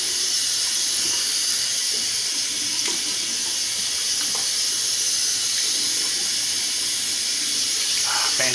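Steady rushing water from a running tap, loud and continuous throughout as soap is rinsed off, with a few faint knocks and clinks under the flow.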